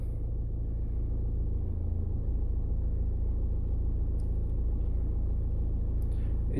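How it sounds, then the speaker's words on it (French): A car engine runs with a steady, close, low rumble that holds level throughout, heard during a vehicle battery test with a Topdon BT Mobile Pro S tester. "On va démarrer le véhicule"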